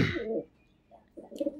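Domestic pigeons coo in short bursts as a male is released into a cage, one low throaty call at the start, a soft coo midway, then another rolling call near the end, fairly close.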